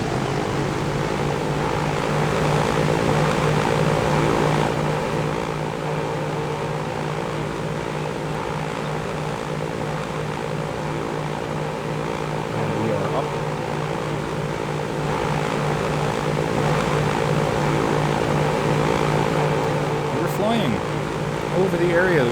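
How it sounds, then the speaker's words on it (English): A propeller airplane takes off in the video game Transport Fever 2, giving a steady droning engine hum that holds throughout, moderately loud and unbroken. "we have our first liftoff, or we are at least about to have our first liftoff"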